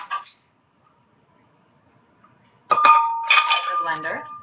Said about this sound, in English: Then I put about a cup of ice.